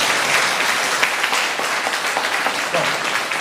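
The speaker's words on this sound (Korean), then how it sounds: "박수 한번 쳐드릴게요." Applause from an audience at a city hall talk concert in Seongnam, a fairly loud continuous clatter of many hands with some murmured voices mixed in.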